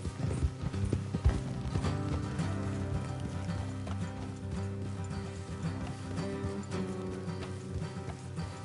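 Horses' hooves clip-clopping in the video game Red Dead Redemption 2, a steady trotting rhythm under music and gear jingle with an occasional whinny, moderately loud throughout.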